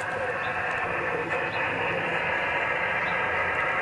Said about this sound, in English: the staticky noise you hear is hooked up to that antenna